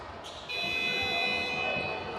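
A basketball game buzzer blares early in a National Basketball League Division 2 quarter-final, a sustained electronic tone that holds for nearly two seconds above the arena's crowd murmur.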